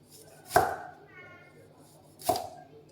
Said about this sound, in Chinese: 我們呢現在呢把這個薑片呢全部把它切完